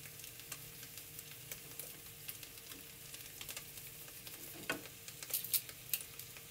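Carrots and potatoes are stir-fried with salt in a pan, giving a faint, quiet sizzle with light scattered scrapes and taps that grow a little busier toward the end, with no voices.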